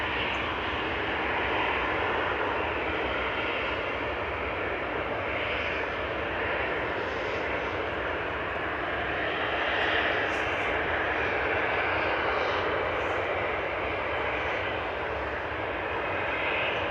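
A Kuwait Airways airliner comes in to land at Manchester Airport, its engines making a steady, continuous roar that sits at a fairly even loudness throughout, without any clear peak.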